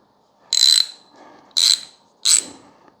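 Ratchet wrench from a socket set clicking in three short, sharp bursts, close and loud with brief pauses between them and no talk.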